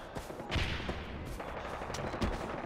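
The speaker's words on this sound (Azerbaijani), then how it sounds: "Atışma gedir yenə." Gunfire in the video game Far Cry, a steady rattling spread of shots with a few sharper bursts standing out against continuous dense noise throughout.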